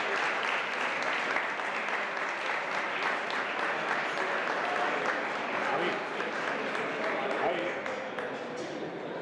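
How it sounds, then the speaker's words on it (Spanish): Sustained audience applause at a cooking congress on convent cuisine, a dense steady clatter of many hands filling the room at even loudness throughout, with some voices mixed in. "Ruego silencio y un fuerte aplauso."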